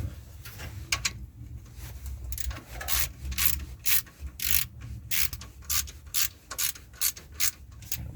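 A ratchet wrench tightens a part on the engine of a 1978 Step Side truck, giving quick, close bursts of metallic clicking in an uneven rhythm of repeated strokes, with no talking.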